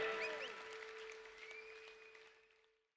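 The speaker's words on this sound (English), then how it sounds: "Come on, let's applaud him once more." Crowd applause for a cyclist finishing a Tour de France stage in a video game, a soft wash of clapping with a sustained tone and brief whistle-like sweeps, fading out toward the end.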